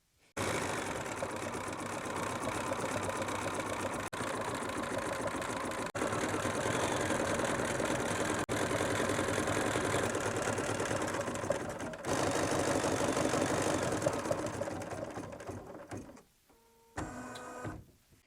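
An embroidery machine stitches a felt gift bag with a steady, dense mechanical whir and rapid stitching chatter that runs almost continuously, with a few brief clicks and a short pause near the end.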